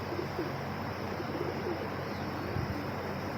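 Pigeons coo softly and continuously at a loft, a steady low burbling murmur from many birds close by, with no talk over it.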